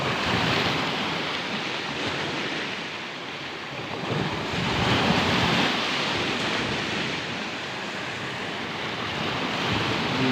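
Strong sea waves crashing and roaring wind during Typhoon Kristine, a loud, continuous surging wash of surf and gusts filling the whole stretch with no voices.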